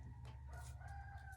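A rooster crows at a farm, a faint, drawn-out cock-a-doodle-doo heard at a distance over a low steady hum.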